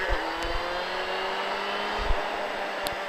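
A motorcycle engine drones steadily as the rider lifts the bike upright coming out of a bend and opens the throttle, with a sustained, even tone and no talking.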